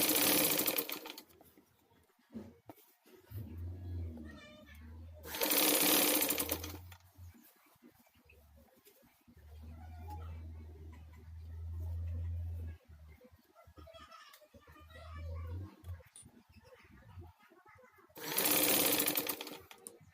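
A domestic sewing machine stitching a crop-top runs in several bursts of steady whirring, paused in between, with someone talking over and between the runs.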